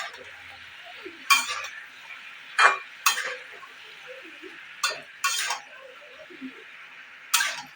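Vegetables with turmeric being stirred in a pan, a spoon scraping and clinking against the metal in short separate bursts over a low steady background hiss.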